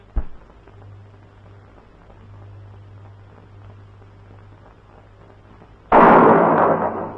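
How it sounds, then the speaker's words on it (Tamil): A sharp pop opens a low humming stretch, then a loud firecracker burst crackles and lingers for over a second. "ஏதோ வெடிச்சிருச்சு. வெடிக்கலடா, வெடி சத்தம்."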